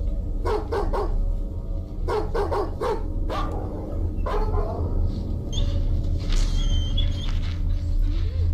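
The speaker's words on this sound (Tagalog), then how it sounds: "Naiinis na ako sa asong yan." Dog barking in short bursts of two or three sharp barks, fairly close, followed by higher whimpering yips, with a steady low background hum and no voices.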